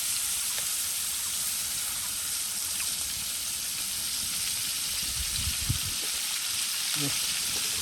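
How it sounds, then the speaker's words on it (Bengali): Large fish fry in oil with a steady, loud sizzling hiss that runs throughout, with a few low bumps and scrapes close by. "ওই স্বল্প করেই ভাজো, মাছ বড় বড় অনেক।"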